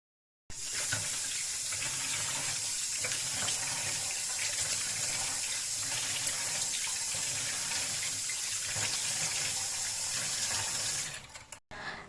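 A bathroom tap runs in a steady, loud, continuous stream while a face is being washed, the rushing water close and unbroken for about eleven seconds before it cuts off abruptly.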